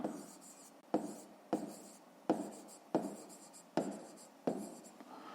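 Pen strokes on paper during a fifth-grade maths exercise, a steady series of short scratchy writing bursts with brief pauses between them, close and quiet, no talking.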